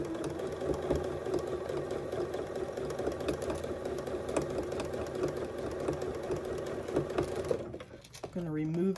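Sewing machine stitching the outer fabric of a three-ring binder pencil case, a steady rapid mechanical whir running close and unbroken before stopping near the end.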